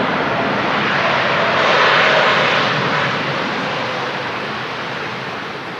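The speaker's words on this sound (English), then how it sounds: "And there she is, safely down on the ground here at Manchester Airport, following what was a pretty routine go around." A passenger jet from Malaga lands at Manchester Airport after a go-around, its engines making a loud, broad roar that swells to a peak and then slowly fades, with no voices.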